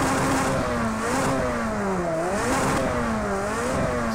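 Ferrari 288 GTO engine revving in a virtual reality racing game at Mugello, a loud continuous engine note rising and falling in pitch as revs climb and drop, steady and close with no talking.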